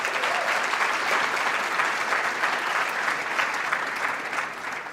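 Sustained applause from a large audience at a 2024 ICT summit, steady and dense throughout before easing slightly at the end.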